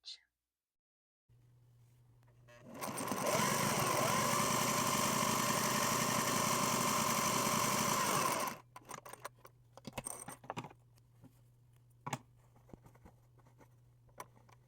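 A Singer 403A sewing machine runs a multi-stitch pattern with its original cams, starting after a low hum and whirring steadily for about six seconds before stopping, followed by scattered clicks and handling knocks.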